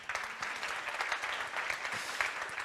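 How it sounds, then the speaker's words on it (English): Audience applause for a speaker at a conference event, a fairly quiet but continuous crowd clapping with individual claps popping out of the steady patter. "So a big applause,"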